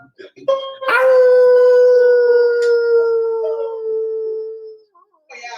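People on a radio show imitate a wolf howl together, one long, loud, sustained howling voice sliding slowly down in pitch over about four seconds, with other voices joining and trailing off.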